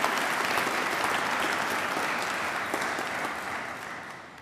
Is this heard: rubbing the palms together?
no